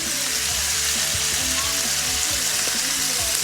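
Poached chicken pieces brown in a pan with some broth for chicken and dumplings, giving off a steady, close, crackling sizzle throughout.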